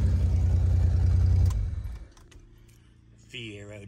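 A 1985 Pontiac Fiero GT engine idles loudly and then shuts off, its rumble cutting out abruptly and leaving quiet with faint clicks and rattles. A voice follows near the end.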